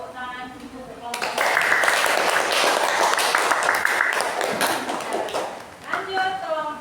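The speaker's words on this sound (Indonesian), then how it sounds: "Tepuk tangan dulu untuk kelompok." Classroom applause for a student group, a burst of clapping from many students lasting several seconds at moderate level, with talk before and after.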